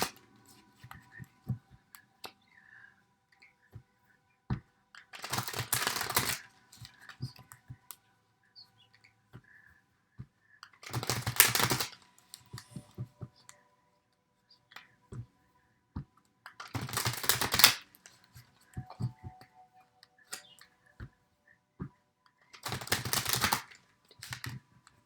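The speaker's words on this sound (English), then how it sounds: "with the cards, I allow them to fall when I shuffle" Tarot cards being shuffled in four distinct bursts of riffling and flapping, each lasting a second or two, separated by quiet pauses with faint clicks and soft handling noises.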